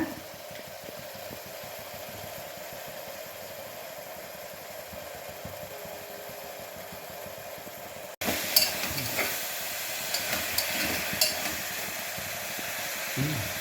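Onion and tomato fry in oil and ghee for chana masala, a steady soft sizzle that grows brighter and crackly partway through, with occasional light stirring scrapes and no talking.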